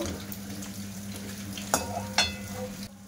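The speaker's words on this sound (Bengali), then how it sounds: "পুরিটা ভাজা হয়ে গেছে, এবার তেল থেকে তুলে নিয়েছি।" Potato puri crackles steadily in hot oil, a continuous close sizzle with a couple of brief sharper clinks toward the end before it quiets.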